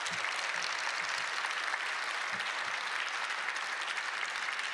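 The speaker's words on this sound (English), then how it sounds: "Dwight McKee, let's hear it." Crowd at a ceasefire rally applauding steadily and loudly throughout, a dense continuous wash of clapping with no pauses.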